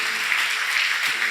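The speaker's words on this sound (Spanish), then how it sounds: "Dale un aplauso al Señor" A church congregation applauds the Lord at the close of a service, a brief, even roar of many hands clapping together.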